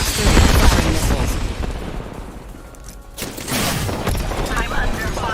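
Missiles launching and gunfire in a sci-fi combat video game, a dense, loud barrage of booms and rapid shots that eases off briefly midway before resuming at full strength.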